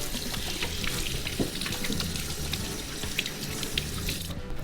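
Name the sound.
washing hands under running tap water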